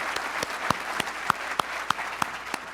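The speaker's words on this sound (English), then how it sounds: "Can we have a round of applause for UW this morning?" An audience at the opening remarks of the Greater Seattle Forum of the Global Cities Initiative applauds. The clapping is moderate and even, with a few sharp individual claps standing out near the listener, and no speech.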